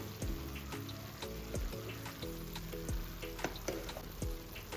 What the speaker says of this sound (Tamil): காரம் சேர்த்து நல்லா வதக்கி விடுங்க